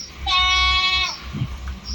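Young goats bleat loudly from inside a barn where they are shut in, a long wavering cry near and clear over low rumbling background noise, followed by a brief thump.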